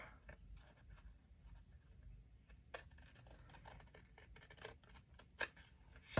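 Scissors snip through junk mail paper being trimmed for a handmade Christmas journal, giving a series of soft, close cuts and crisp clicks, quiet and without talk.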